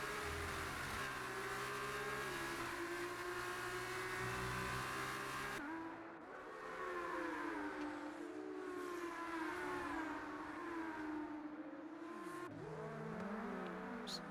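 Race cars from F1 23 in an F2 São Paulo GP league race, engines whining steadily with shifting pitch as a pack runs nose to tail, a loud continuous drone with gear changes throughout.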